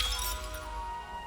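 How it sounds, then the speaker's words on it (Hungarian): Glass tinkling and chiming in a Hogwarts Legacy scene as the Reparo spell mends a broken pane, a bright shimmering burst that settles into a sustained, fading ring. "És meg is javította az üveget."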